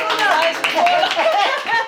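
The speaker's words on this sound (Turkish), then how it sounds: "Alkışın! Bravo!" A small audience claps continuously through a film talk about Matteo Garrone's Dogman, with voices talking and calling out over the applause.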